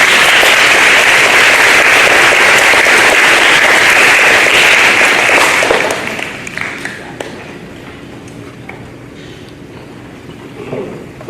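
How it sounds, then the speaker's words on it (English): Loud, dense applause for a student at a third grade awards ceremony, filling the room for about six seconds before dropping off into quieter room sounds and scattered noise. "So one more round of applause for Madison"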